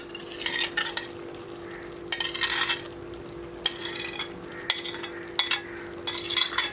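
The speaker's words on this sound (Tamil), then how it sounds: "இப்போ நம்மளோட பன்னீர் ஆட் பண்ணிக்கலாம்." Paneer stirred into rice pulao in a pot, giving bursts of scraping spoon strokes and light clinks separated by pauses, close and clear over a faint steady hum, with no voices.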